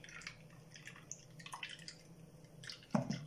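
Homemade almond milk drips slowly through a fine strainer with quiet, scattered droplets and a soft splash near the end, faint and close, with no talking.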